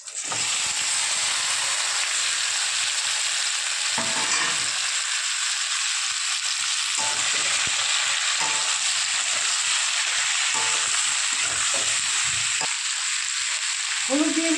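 Amla (Indian gooseberries) frying in oil with asafoetida for a pickle, a loud, steady hissing sizzle broken by intermittent stirring clatter, close up.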